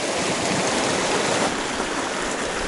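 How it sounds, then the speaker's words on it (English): Glacier Creek, a shallow mountain stream near Leadville, Colorado, rushes past steadily in a loud, continuous broadband wash of flowing water with no pauses. "This is a Glacier Creek, or Lake Creek"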